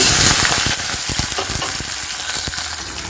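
Onion, green chilli and fenugreek sizzle steadily in a hot pan, a loud continuous frying hiss with small crackles and pops throughout and no voices.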